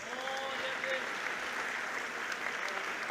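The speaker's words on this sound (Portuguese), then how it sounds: "Pode aplaudir o Senhor que Ele merece." A church congregation applauds during a sermon at an Assembly of God service, a faint, steady wash of clapping throughout with a voice heard over it.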